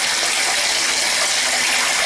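Water gushing from a faucet into a bathtub, a loud, steady rushing splash that continues unbroken throughout.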